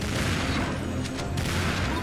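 Rapid bursts of gunfire rattle under a dense, steady wash of game noise in Serious Sam 2, loud and close.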